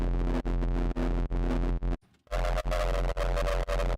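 Synthesizer tones built from noise layered with a sine wave and pushed through distortion, heard as a loud, dense, gritty buzz pulsing in steady on-off chunks, with a brief near-silent gap partway through.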